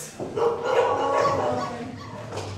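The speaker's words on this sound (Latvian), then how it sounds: "Vai jūs izlaidāt tos suņus?" Dogs barking and yelping in a manor setting, several excited barks and whimpers close together over a roomy background, fairly loud and without any talk.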